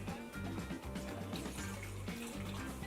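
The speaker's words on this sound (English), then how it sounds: "Adding water." Boiling water from a kettle is poured into a food allergy recipe mixture, giving a steady running splash with gurgling bubbles.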